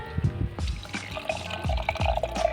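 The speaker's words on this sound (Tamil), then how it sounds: "இப்போ நம்ம இந்த இளநீரில் உள்ள தண்ணியை நம்ம இந்த பவுலில் ஊற்றிக்கலாம்." Coconut water poured from a tender coconut into a bowl during outdoor cooking, a short run of splashing, trickling liquid with a few drips, close and moderately loud.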